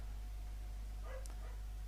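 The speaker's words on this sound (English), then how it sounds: "starts barking like a madwoman" A dog in the room gives a brief, faint yip or whimper, a short high burst about halfway through, barely rising above a steady low electrical hum.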